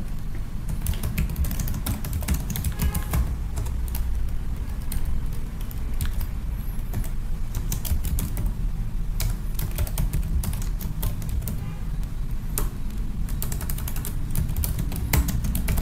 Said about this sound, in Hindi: जिसे यहाँ पर मैं अपने हिसाब से यहाँ पर टाइप कर देता हूँ।